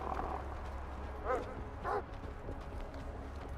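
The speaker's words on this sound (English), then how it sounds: "Okay, there's apparently just a bunch of dogs here that I..." A pack of dogs in a video game bark in two short, distinct bursts over a low rumbling game ambience, moderately close, with faint background noise between the barks.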